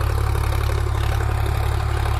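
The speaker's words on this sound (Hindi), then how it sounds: "क्या शानदार आवाज़ है ट्रैक्टर की।" A Sonalika DI 745 HDM power-steering tractor engine idles steadily, a loud, close, even low diesel throb with no voices over it.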